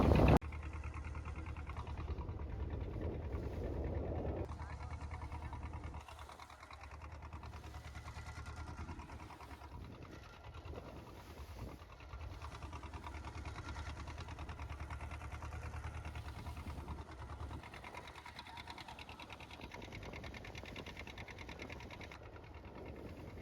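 A fishing boat's engine drones steadily and continuously, close and fairly loud, with a rattling mid-range hum throughout.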